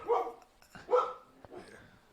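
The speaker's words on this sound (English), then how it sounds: "he has a little dog. He's barking, but he comes back now." A little dog barks two or three times at a homestay, sharp yaps at moderate distance with short gaps between them and no talk over them.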